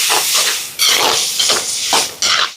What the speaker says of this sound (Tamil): தக்காளி பழம் சேர்க்குறேன். தக்காளி பழம் வதங்கட்டும்.